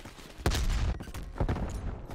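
Bursts of gunfire from an AK-74u-type SMG in the Call of Duty Cold War video game, a few loud rapid volleys with short gaps between them, close and harsh.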